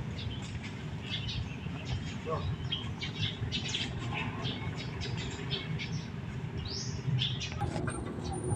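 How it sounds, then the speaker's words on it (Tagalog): Small wild birds chirp in short high tweets scattered throughout, somewhat distant, over a steady outdoor background rumble with a voice talking intermittently. "May mga ibon dito maliit sa ibabaw."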